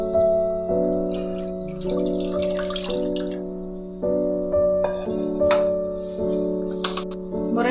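The leftover water from grinding drumstick leaves pours into a pan of frying paste, a splashing, dripping stream heard clearly over steady background tones.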